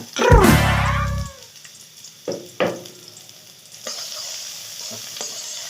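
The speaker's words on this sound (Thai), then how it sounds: "ผัดให้หอม" Ingredients are stir-fried in a pan: a loud burst of sizzling as food hits the hot oil, easing into softer frying with scraping stirs and intermittent clatter, heard close and without speech.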